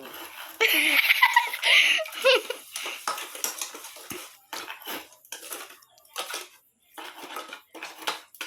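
Homemade ghol, a buttermilk drink with sugar and salt, being whisked or beaten in a vessel, with loud clinking and scraping against the pot at first, then continuing in irregular rattling bursts.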